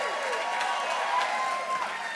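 Audience applause fills a school district staff recognition ceremony honoring 30 or more years of service in Chapel Hill-Carrboro City Schools. It is a steady, close wash of clapping that holds for the whole moment, with a faint tonal ring over it.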